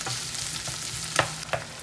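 Garlic sautéing in a pan for ground pork giniling, a quiet steady sizzle broken by a couple of brief utensil knocks and scrapes, close up with no voices.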